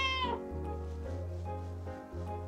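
A cat in the Calico video game meows in a long, drawn-out call, then gives several shorter mews over a steady low hum.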